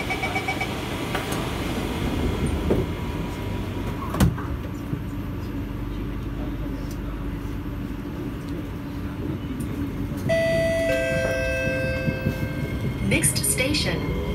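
Metro train on a line from Admiralty to Woodlands, a C751B set: doors close with a chime and thud, then the train pulls away with a rising motor whine over steady rumble.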